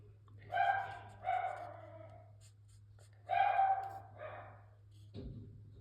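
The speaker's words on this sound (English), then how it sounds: "I don't know if you guys can hear the dogs in the background." Dogs bark in a few short clusters, somewhat distant, over a constant low mechanical hum.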